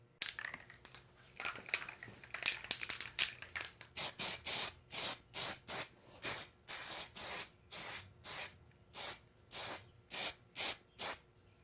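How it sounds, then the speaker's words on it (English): Spray gun applying Transtar 2-in-1 primer to a spoiler repair, with rough uneven hissing at first, then a regular series of short bursts about a second long, close and alone. "I gave a couple coats of primer"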